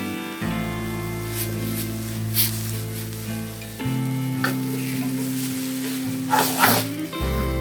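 Onion uthappam sizzling on a hot pan after being flipped, a soft steady fry with a few scraping stirs, under sustained background music with no talking.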